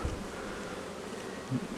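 Honey bees buzz steadily around a beehive outdoors, a faint continuous hum with no talk.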